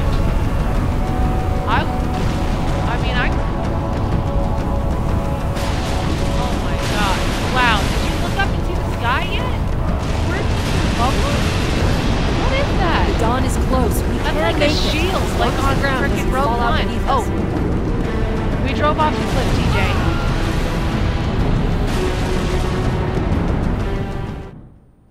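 A huge rumbling explosion in the Halo 3 video game, a dense continuous roar with crackling bursts and wind-like rushing that holds steady for about twenty-five seconds before cutting off.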